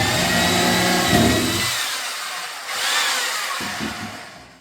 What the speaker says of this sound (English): drill another hole here, and do the same thing.